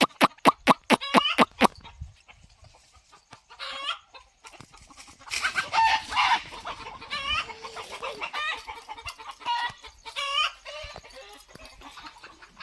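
Farmyard hens cluck and squawk in loud, broken bursts, nearby and agitated while their eggs are being collected; a rooster-like crow rings out at the start, and the calls come in irregular clusters.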